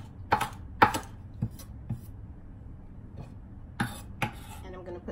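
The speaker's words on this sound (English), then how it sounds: "and I'm gonna chop that up." A knife chopping a small sprig of thyme on a cutting board in a home kitchen, giving a few sparse, soft, irregular taps at moderate distance.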